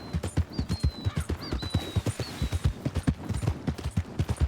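Horse hooves clip-clop in a steady, brisk rhythm in the Red Dead Redemption 2 video game, close and clear, with a few high whinny-like tones over the hoofbeats.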